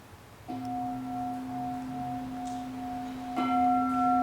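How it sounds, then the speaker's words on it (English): A ritual bell struck lightly and rung in a circle during umdze training, sounding two clear sustained strikes about three seconds apart, each ringing on with steady overtones in a quiet room. "To ring this bell is a circle."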